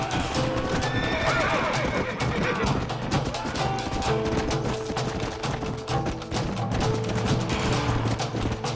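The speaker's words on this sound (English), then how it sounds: "Get away from them horses!" Horses in a video game whinny repeatedly over a dense clatter of hooves, loud and busy, with several animals calling at once.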